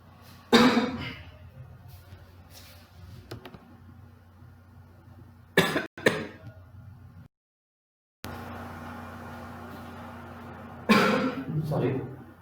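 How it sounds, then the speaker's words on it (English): Several sharp coughs from a man during a physics lecture on rotation, close to the microphone, spaced apart between stretches of speech, with a brief silent gap partway through. "so let me cough"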